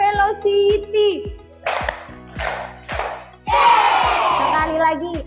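Children clap in a steady rhythm while chanting and shouting together, ending in a loud burst of group cheering.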